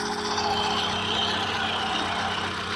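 A Ford car engine idles smoothly and steadily, a continuous low hum with faint higher whine, close and alone with no talk.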